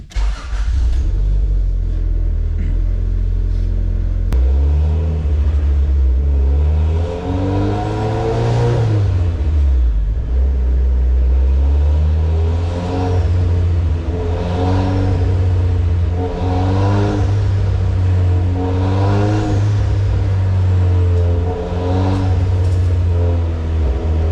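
Turbocharged Honda Civic with a B18B1 engine revving hard on a dyno, a loud, continuous engine roar that climbs through repeated pulls with rising and falling pitch, sustained close up with no talking.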